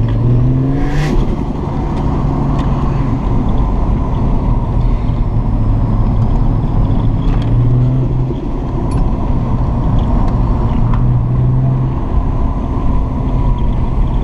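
A turbocharged 1998 Ford Falcon EL sedan engine pulls hard under acceleration, a loud steady drone close by with engine pitch rising in stages as gears change, plus a brief whistle near the start.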